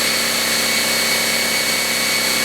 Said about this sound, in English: this video is predominantly being done to just show you the compressor and also how loud it is